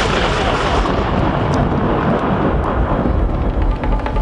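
Dense, loud heavy downpour roars steadily with a low rumbling thunder undertone throughout, a continuous storm wash with no voices.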